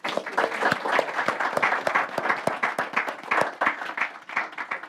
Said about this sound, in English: Let's give our hostess a big round of applause.